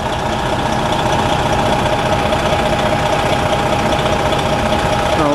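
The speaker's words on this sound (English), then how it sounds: "Here's the front of the engine." A fire engine, PFD Engine 247, idles close by with a loud, steady diesel rumble and a faint knocking texture running unbroken throughout.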